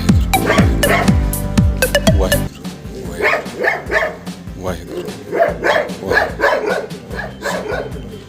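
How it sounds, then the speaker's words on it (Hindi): Street dogs in a village lane bark repeatedly in sharp, loud bursts, several close by at first and then others in a more scattered, slightly farther chorus, with a voice talking over the barking. "गली के कुत्तों ने हम पे भौंकना चालू कर दिया"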